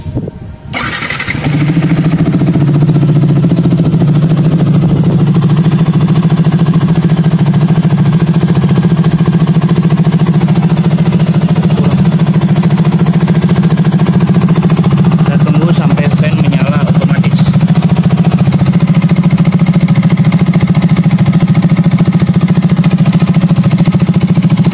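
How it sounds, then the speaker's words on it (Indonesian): A Yamaha motorcycle with a faulty radiator fan, such as a Xabre, Vixion, MX or R15, cranks briefly and starts. Its engine then settles into a loud, steady, close idle that runs for a long time, with minor clatter partway through. "Oke, tolong nyalakan dulu mesinnya."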